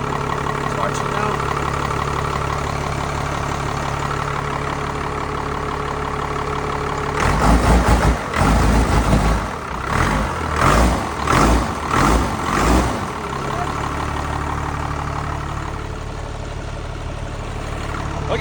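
A big truck engine idles after starting, a steady deep rumble with a loud burst of revving and clattering in the middle before settling back to an even idle, with voices talking over it.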